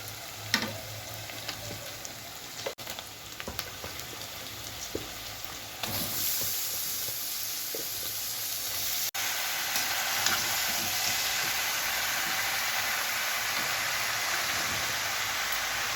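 Onions, browned and then mixed with ketchup, fry in a pan with a steady close sizzle and occasional soft stirring clicks. The hiss grows fuller and more even partway through and carries on with no talking.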